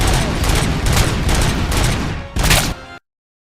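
Loud, rapid SMG fire in a video game, several dense bursts of gunshots back to back with a short gap before a final burst, cutting off abruptly into silence.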